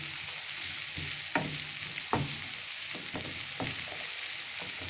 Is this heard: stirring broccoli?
yes